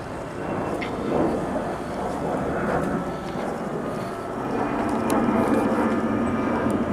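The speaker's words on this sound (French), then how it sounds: "Il y a un avion qui passe." A propeller airplane drones past overhead on a quiet outdoor trail, a steady broadband roar that swells slightly toward the end, with faint wind and no talk.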